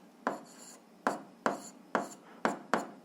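Marker or chalk strokes on a classroom board while an algebra equation is written, six short scratchy strokes in quick irregular succession, close and fairly faint.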